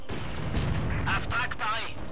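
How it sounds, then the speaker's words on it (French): Incoming mortar fire in Company of Heroes 2 (a heavy, continuous rumble of impacts and blasts) fills the whole stretch at steady loudness, with a voice speaking briefly over the bombardment. "On essuie des tirs de mortier."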